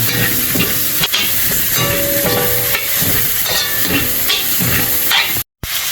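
Carrots sauté in a hot pan with onion and garlic for pancit miki guisado, making a loud, steady sizzle and hiss with repeated scraping stirs, ending in a brief dropout.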